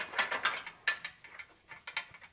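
A ratchet tightening cross member bolts on a Toyota RAV4, several quick bursts of clicking with short pauses between, close and fairly quiet.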